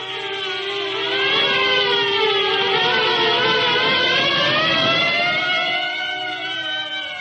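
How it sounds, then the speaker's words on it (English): Several sirens wail together, loud and sustained, their rising and falling tones overlapping for several seconds with no talking. "At the sound of the sirens"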